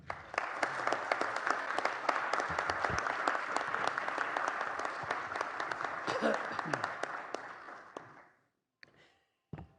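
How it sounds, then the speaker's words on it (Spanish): Warm, sustained applause from an audience welcoming a senator at a keynote lecture for a youth association, steady and full for about eight seconds before stopping abruptly, followed by a few faint scattered claps. "Recibimos con un cálido y fuerte aplauso al senador Héctor Vasconcelos."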